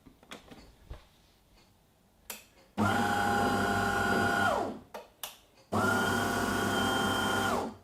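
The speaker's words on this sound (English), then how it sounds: "That's grinding up the beans." A DeLonghi Magnifica S Plus bean-to-cup coffee machine grinds coffee beans in two loud, steady bursts of about three seconds each, separated by short clicks and mechanical clunks.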